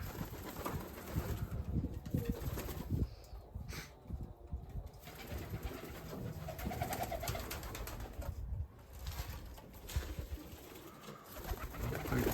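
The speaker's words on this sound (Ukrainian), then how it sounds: "И у нас голубочки Будапешты" Budapest pigeons coo softly nearby in a loft, with bursts of wing flapping as birds shift and take off, over a low steady background hum.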